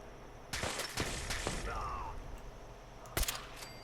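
Gunfire in the video game Fallout 4 arrives as a few sharp, separate shots spread over a few seconds, fairly faint against a quiet ambient background, with one louder crack near the end.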